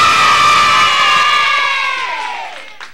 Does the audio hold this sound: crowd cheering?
yes